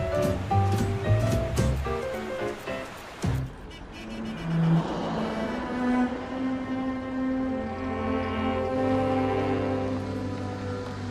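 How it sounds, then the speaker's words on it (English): Ocean surf off Hawaii where surfers ride the waves, heard as a rushing wash of breaking water, with a sharp clatter of impacts early on and a sustained hum mixed in after. "Out on the water, Hawaiian Duke Kahanamoku is riding his surfboard."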